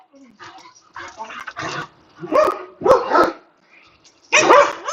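Several dogs bark loudly and close by in uneven bursts, mixing sharp barks with whiny yips and short pauses between outbursts.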